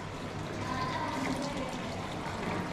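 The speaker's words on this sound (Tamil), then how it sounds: "இது தண்ணி விழுகிற மாதிரி செட் பண்ணியிருக்கோம்." A decorative indoor waterfall feature set in the hall of a house gives a steady, broadband rush of falling water, continuous and moderately close, with no clear breaks throughout.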